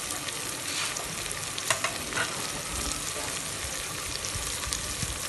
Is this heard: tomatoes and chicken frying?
yes